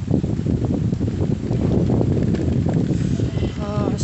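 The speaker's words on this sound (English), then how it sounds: "Oh, strong wind" Strong wind by the beach buffets the microphone in heavy, continuous low rumbling gusts, loud and close throughout, with a voice speaking briefly near the end.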